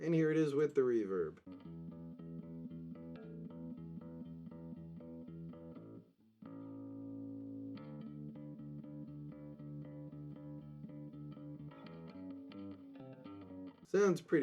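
A hair metal bass guitar line with ambient reverb plays sustained, distorted low notes in a steady repeating pattern, fairly quiet, with a short break midway and a voice talking at the start and end.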